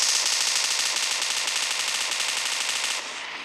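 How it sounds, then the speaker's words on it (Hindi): Sustained rapid automatic gunfire in a battle royale video game during a solo custom tournament match, loud and unbroken for about three seconds before cutting off abruptly, with no talk. "शैडो स्टॉर्म ने ब्लू आर्मी किंग पर फायर करेंगे"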